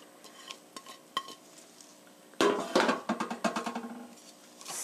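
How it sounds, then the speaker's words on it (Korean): Garlic, carrot and onion stir-fried in a pan, starting with a few scattered clinks before a burst of loud sizzling and rapid rhythmic scraping and stirring up close. "여기에 갈릭, 캐럿, 어니언 같이 넣어서 볶아주세요"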